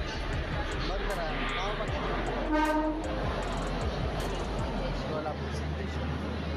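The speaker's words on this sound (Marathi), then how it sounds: "तर ही ट्रेन आहे ना सोलापूरला जाण्यासाठी किंवा तिथे तुळजापूर वगैरे सर्व भागामध्ये जाण्यासाठी" An Indian passenger train bound for Solapur sounds its horn at the station, a brief steady tone rising over constant platform crowd noise and voices.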